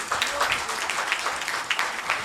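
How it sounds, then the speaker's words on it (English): An audience at a national conference inaugural session applauds the arriving chief guest, with steady, moderately loud clapping. "Please give a big round of applause for him."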